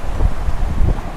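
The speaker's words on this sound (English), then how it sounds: "Definitely getting a little windy." Gusty wind buffets the microphone on an island shoreline near a dock after a typhoon, a low rumbling roar that surges and eases steadily for just over a second with no voices.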